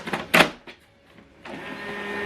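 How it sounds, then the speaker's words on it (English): An HP LaserJet M140we printer sets up after its toner door is closed: a sharp click and clunk early on, a short pause, then a steady mechanical whir of motors running until the end. "give this printer time to set up, to recognize the toner."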